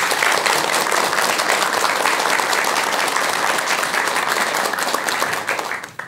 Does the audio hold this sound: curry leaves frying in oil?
no